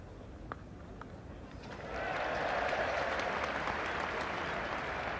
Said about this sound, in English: sympathetic and relieved applause from what is not a bad crowd